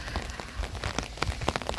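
Rain falls outside in a steady hiss with scattered sharper drops tapping on a surface nearby, moderately loud, with no voices.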